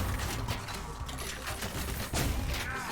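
Pump-action shotgun blasts from the retro shooter Ion Fury crack out in a rapid series of sharp bursts over dense game noise and music, loud and close, with no voices.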